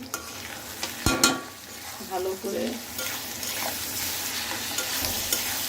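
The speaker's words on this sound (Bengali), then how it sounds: "মশলাটাকে ভালো করে মিক্স করবো, করে আর একটু ভাজা ভাজা করবো।" A spice masala of salt, turmeric and a little coriander-cumin powder is stirred and fried in a pan for a dried loitta fish and potato dish: steady close sizzling with scraping strokes, and a brief spoken phrase.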